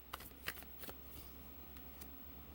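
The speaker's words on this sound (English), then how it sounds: "let's pull some oracle cards for you guys" Oracle cards being shuffled by hand, a few soft crisp riffles and flicks close by, quiet, with no talking.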